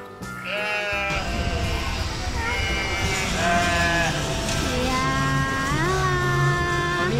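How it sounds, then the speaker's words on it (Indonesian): Several sheep bleat repeatedly and loudly, overlapping calls eager to be fed, close by with no talk. "Ini domba-dombanya udah nggak sabar pengen makan teman-teman."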